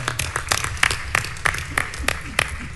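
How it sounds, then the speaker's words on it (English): An audience at a National Action Network convention applauding, a burst of scattered hand claps with uneven sharp hits, moderately close in a large hall and not overlapped by talk. "Y'all, we can clap for that."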